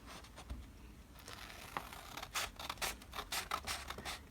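Scissors snip through watercolor paper in a craft setting, a series of quiet, crisp cuts that quicken into a rapid rhythm in the second half, close and faint with no talking.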